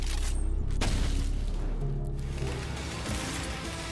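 A right-click attack in a modded beekeeper video game sets off an explosion, a sharp burst followed by a softer second blast over a continuous low game hum.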